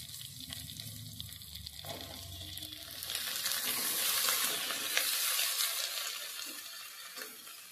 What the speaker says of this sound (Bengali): পেঁয়াজ রসুনের সঙ্গে আলুটাকে আবার মিনিট 2 ভালো করে ভেজে নেব